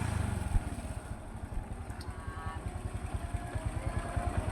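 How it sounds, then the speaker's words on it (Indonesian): A Honda Karisma motorcycle engine revs steadily with a throbbing, pulsing idle-to-throttle rhythm, close and continuous with no one talking. "kalau misalkan dia ditarik gas ya, digeber ya"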